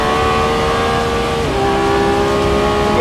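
A Lamborghini Revuelto engine revs hard under acceleration, a loud, close, sustained whine with a gear shift partway through that drops the pitch before it climbs again.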